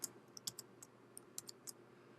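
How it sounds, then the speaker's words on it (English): A few faint, close clicks of computer keyboard keys are heard, with scattered taps over a quiet room hiss. They could be a Command Z key combination. "I'm pushing Command Z to get rid of those again."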